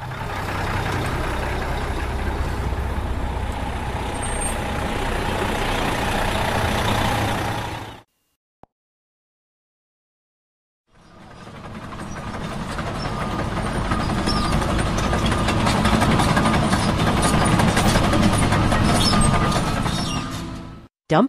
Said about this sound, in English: Many postal workers deliver mail from a mail truck.